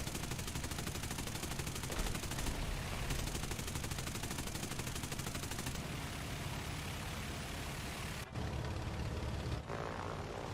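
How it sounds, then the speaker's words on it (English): Sustained machine-gun fire rattles continuously from the tail gunner of a Saab B-18A medium bomber in War Thunder, a dense stream of rapid shots over droning propeller engines, briefly cutting out near the end. "We'll get him with the tail gunner."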